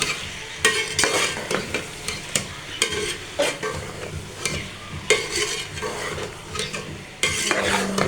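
A spoon stirs okra and masala in a hot pan, with repeated scraping strokes and clicks over a continuous close frying sizzle.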